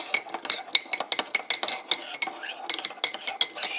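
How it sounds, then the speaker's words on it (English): A spoon stirring decaf chicory coffee with cane sugar in a cup, a quick run of bright, close metallic clinks and scrapes repeating in an uneven rhythm, with no talk. "Get a spoon and you stir up the"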